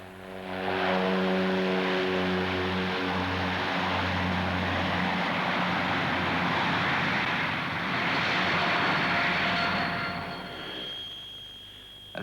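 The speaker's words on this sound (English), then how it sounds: "The Handley Page Dart Herald gets clearance from the controller. Remarkable for its short takeoff" Handley Page Dart Herald turboprop airliner taking off at the Farnborough airshow, a loud sustained propeller and turbine roar with whining tones, swelling and then fading near the end.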